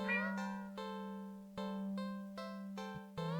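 Cat meowing in the video game Do Not Take This Cat Home, a run of plaintive, tonal meows in quick succession, close and clear over a steady low musical drone.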